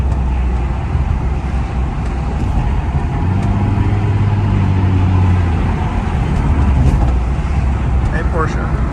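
A 2007 Infiniti G35 Coupe engine rises in pitch as it revs on a downshift during a city drive, under steady road and cabin noise, with someone talking over it.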